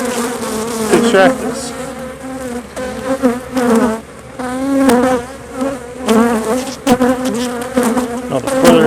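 Honeybees buzz around an opened hive during a honey harvest, a dense steady drone from many insects close by, with a few words spoken briefly over it.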